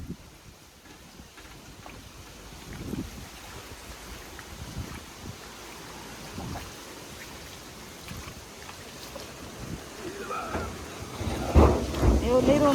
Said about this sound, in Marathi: बघत बघत चांगला पाऊस झाला